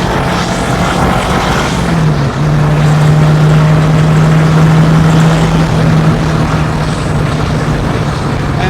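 A 1981 Renault R5 Turbo 1 engine accelerating hard, heard from the passenger seat as a loud, continuous droning roar with a strong rising tone held for several seconds, then steadying.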